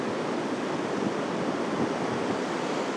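Stormy surf on the central beach at Anapa after strong wind and rain, a steady loud broadband roar of crashing waves with wind buffeting the microphone throughout, no voices.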